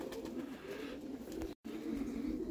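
Pigeons coo steadily at a loft, a continuous low murmuring of several birds close by, with a brief dropout partway through.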